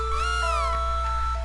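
A cat in the game Chrono Trigger DS lets out a single clear, rising-then-falling meow, short and prominent over a steady electronic background drone.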